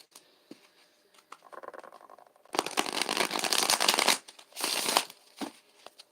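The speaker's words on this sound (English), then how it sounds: "So we're gonna mix them up real good and do a good ruffle shuffle" A deck of playing cards is riffle shuffled: soft fluttering, then two loud buzzing riffle bursts of a second or more each, followed by light taps as the cards are squared, close up and without talk.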